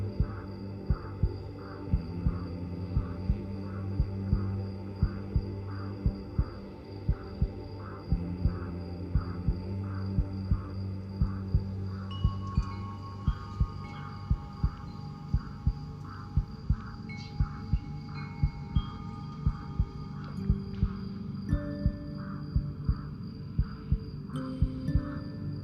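A slow, steady heartbeat thumps at a regular pulse, low and soft, over a continuous low hum and faint tonal drone that shifts partway through, calm and meditative.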